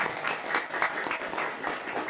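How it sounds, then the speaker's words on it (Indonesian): An audience at a talk or seminar claps in a steady, moderately loud patter of many hands that holds evenly for a couple of seconds. "Tepuk tangan dulu dong"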